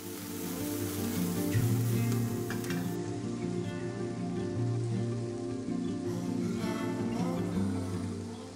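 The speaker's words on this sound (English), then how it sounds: "Saute for about 2 minutes." Garlic and bean sprouts sauté in a hot pan for a noodle dish, giving a continuous close sizzle with occasional crackles and stirring scrapes, with no talk.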